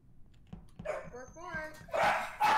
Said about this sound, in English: those are loud-ass dogs